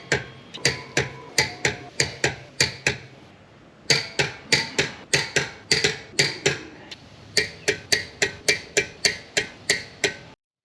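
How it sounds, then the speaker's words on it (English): A torque wrench tightens lug nuts on a Honda Civic Type R FL5 wheel (TE37) toward 94 foot-pounds, giving rapid, sharp metallic clicks in regular runs, broken by one short pause, close and fairly loud. "So let's go ahead and torque the lug nuts."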